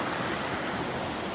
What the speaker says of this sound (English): it appears I have my first really challenging river crossings